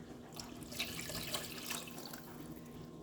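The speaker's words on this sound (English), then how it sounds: "I'm going to probably put in the rest of my water" Water pours steadily into a cooking pot of boiling broth on the stove, a continuous splashing, trickling stream heard close up for a few seconds, with no talking.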